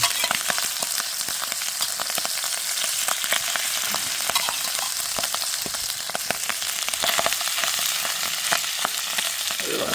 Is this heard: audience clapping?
no